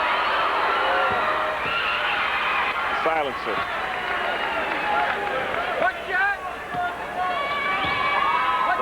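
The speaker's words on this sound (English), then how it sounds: "Listen to the crowd." Crowd noise fills a high school basketball gym during a free throw in a 1984 Simeon vs Evanston game, a steady loud roar with whistles and shouts while a commentator talks over it.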